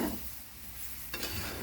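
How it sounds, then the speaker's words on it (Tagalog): Coconut milk simmering and bubbling in a pan with shrimp paste, a soft steady hiss with faint crackle, quiet and close, no voices. "Yan, kumukulo na guys."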